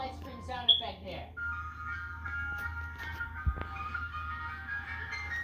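Ice cream truck jingle: a sustained, steady electronic tune, moderately loud and continuous after a brief warbling start, with a sharp click partway through.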